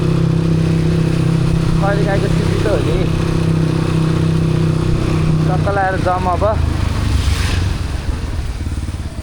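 A motorcycle ridden on the road to a Gurung village in Nepal gives a steady, close engine drone throughout, with someone talking over it.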